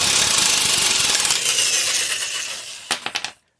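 An impact wrench spins the strut nut on a Mercedes GLK (X204) front strut, giving a loud continuous high whir that tails off, then a few sharp hammering bursts before it stops.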